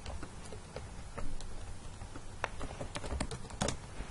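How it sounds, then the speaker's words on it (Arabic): Words are typed on a computer keyboard in Microsoft Word, quiet irregular key clicks tapping at a moderate pace with no speech. "نكتب مثلا كذا كلمة"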